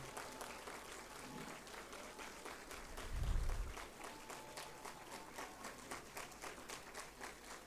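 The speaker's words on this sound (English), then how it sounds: "Huge round of applause to Honorable Minister." An audience claps in applause to welcome a minister into a multipurpose hall. The clapping is steady and sustained throughout, with a brief low thump near the middle.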